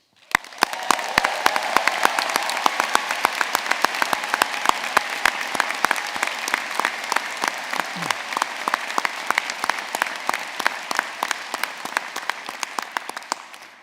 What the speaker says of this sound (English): get our first cheer of the afternoon for the class of 2022, congratulations